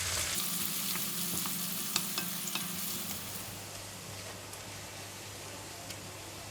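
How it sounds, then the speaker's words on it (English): Shallots frying in hot oil while being stirred, a continuous close sizzle with light scraping ticks from the stirring. "Keep stirring until the shallots are cooked and slightly golden brown."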